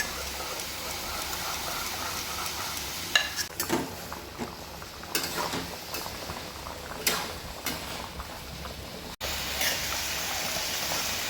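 Cooked lentils being mashed in a pot, with soft wet squelching and scattered scraping taps over a steady low bubbling background, fairly close and without talk.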